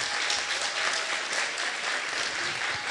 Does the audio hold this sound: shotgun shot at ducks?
no